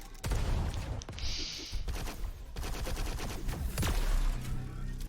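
Rapid bursts of video game weapon fire from pincer shots in a competitive arena shooter match, a dense crackling fusillade of sharp repeated blasts running steadily throughout, loud and close.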